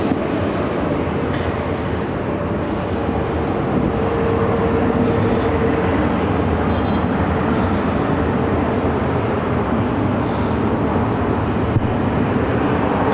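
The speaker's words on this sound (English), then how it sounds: "Airways Flight 289 coming in from London Heathrow, the A350 1000, just over Arizona now" A British Airways Airbus A350-1000 airliner on landing approach into Phoenix, arriving from London Heathrow, gives a steady, broad engine roar that holds at an even level throughout, without any talk.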